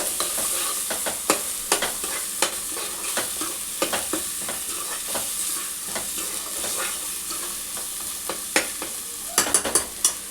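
Turmeric and ginger stirred around a hot pan for a Telangana bagara chicken curry, a steady sizzle broken by repeated sharp scrapes and clinks of a spoon against the metal, close and clear, with no talking.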